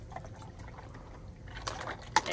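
Water trickles and pours faintly as a LEGO container ship sinks in a pool, with a few small splashy bursts near the end.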